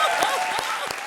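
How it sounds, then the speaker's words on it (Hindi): A brief burst of dense audience applause at a comedy show, steady and fairly loud, with a voice faintly mixed in. "जोरदार तालियां बजाओ।"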